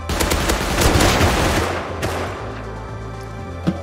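Gunfire in the survival video game Rust, a rapid fusillade of loud, close automatic shots during the first half, then a steady mechanical drone and one sharp click near the end.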